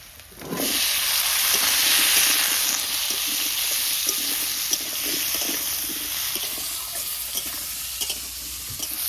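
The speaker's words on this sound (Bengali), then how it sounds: "কেটে রাখা আলুগুলো দিয়ে দিচ্ছি" Cut potatoes hit hot oil with fried onion, garlic and salt in a home kitchen pan, giving a loud, steady sizzle with stirring scrapes throughout and no talking.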